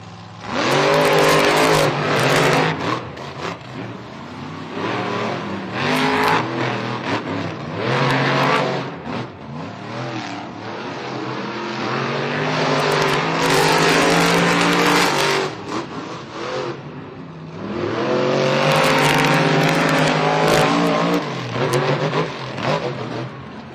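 Monster Jam trucks Zombie and Vendetta race in a stadium, their loud engines revving hard in repeated surges and falling back between bursts, with crowd and arena noise beneath.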